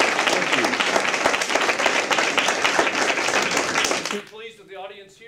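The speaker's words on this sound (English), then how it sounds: "let's give our judges a round of applause" An audience applauds the judges at a university final presentation event, steady dense clapping for about four seconds before cutting off, then a voice speaks briefly.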